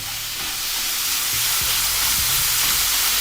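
Onions and peppers sizzling steadily in an oiled pan, a loud, constant close-up hiss of frying with faint stirring bumps underneath.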